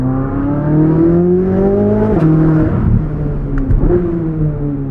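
A 2023 Chevrolet Corvette Z06 engine and performance exhaust while driving, loud and close, with rising and falling revs through gear changes and a steady throaty roar.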